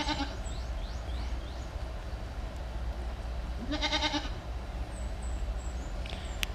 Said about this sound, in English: The goat is learning how to climb on me. Hello, baby goat.